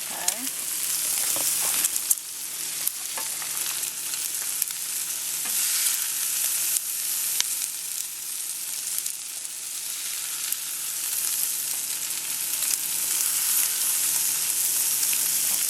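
Meat browning on a camp griddle at Fort Mountain State Park, a steady dense sizzle and fry filling the whole stretch with occasional scraping stirs, close and fairly loud, no talk over it.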